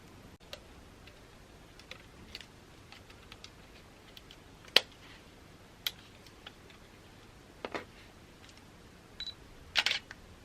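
A camera shutter snaps at irregular intervals as new products are photographed, faint close clicks scattered over a quiet room, with a quick double click near the end.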